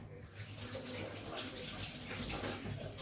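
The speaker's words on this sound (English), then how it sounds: "let me go and wash my hands," Tap water runs steadily into a sink as hands are washed in a home kitchen, a continuous close splashing hiss with a faint voice underneath.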